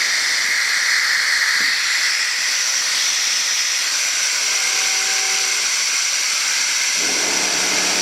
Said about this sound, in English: Now my air compressor turned on.